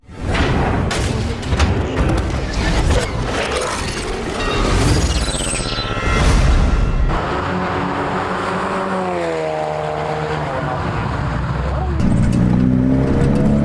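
A Ford Focus RS pulls hard on a highway, its engine note rising loud and close with a rumbling build and a brief boom before settling into a steady drone.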